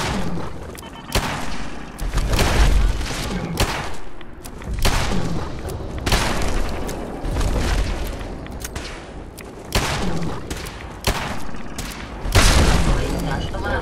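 Gunfire from Kellogg's pistol in Fallout 4, a string of loud, sharp booming shots spaced irregularly across the stretch, each with a punchy low thump, while someone talks in between.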